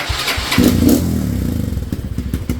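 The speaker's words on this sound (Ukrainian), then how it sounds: "Давайте запустимось і послухаємо, як він робить ратата" A Geon Terrax 250 motorcycle with 6,300 km on the clock starts with a thud, then its single engine settles into a steady, rapid, close-up idle that rattles on alone.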